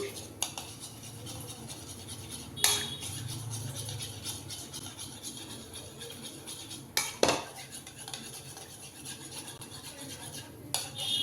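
Rava pudding mixture is beaten in a bowl with a utensil, giving soft scraping and stirring under low room noise, punctuated by a few sharp metallic clinks against the bowl's side.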